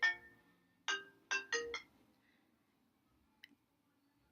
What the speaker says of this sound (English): It was my phone ringing.